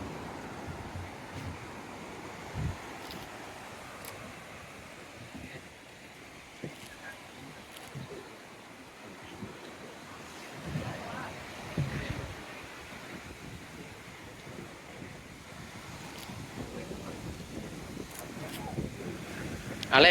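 Ocean waves break and wash continuously on the shore at Corbyn's Cove Beach in Port Blair, Andaman, with soft surf swells and light wind noise at a moderate distance.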